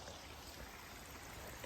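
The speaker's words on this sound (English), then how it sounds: "where we can all listen to the waterfall" A waterfall roars as a steady, even wash of rushing water outdoors, constant and fairly distant, with nothing else standing out.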